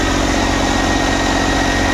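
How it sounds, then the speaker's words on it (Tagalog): A Suzuki DA64 engine, warmed up and idling high at close to 2000 RPM with a suspected bad turbo, gives a steady, continuous hum with an even mechanical drone, loud and close with no talk over it. "mainit na yung makina niyan, pero ang RPM niya halos kulang-kulang 2000 RPM"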